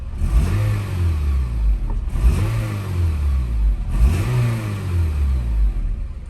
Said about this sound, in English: So, give a couple of baby revs.